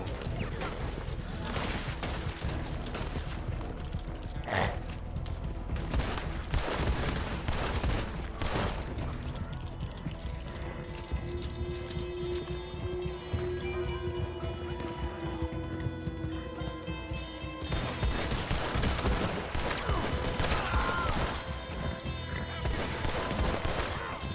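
Rapid bursts of gunfire in Red Dead Redemption 2 crack out repeatedly over a dense, busy soundtrack, with occasional voices talking underneath.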